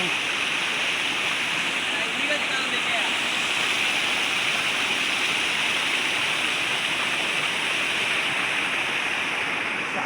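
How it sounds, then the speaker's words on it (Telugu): Heavy water crashing down at Podili hill waterfall, a loud, steady, broadband roar with no breaks, close by and continuous throughout. "దగ్గరికి వచ్చిన తర్వాత చాలా హెవీగా పడుతున్నాయి పడుతుంది వాటర్"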